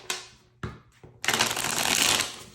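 Tarot cards are laid out for a Celtic Cross spread: a few quick card slaps and snaps, then a longer burst of shuffling riffle, close and crisp.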